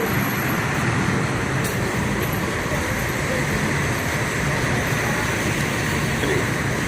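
A constant low engine rumble and roadway noise as a bus idles and maneuvers slowly in a crowded bus parking lot nearby, steady throughout without clear speech.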